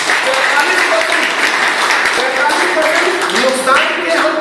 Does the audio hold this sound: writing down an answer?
no